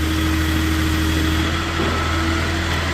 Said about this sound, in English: now we're going to get some hydraulics. Here's a mast going up and down, tilt, side shifts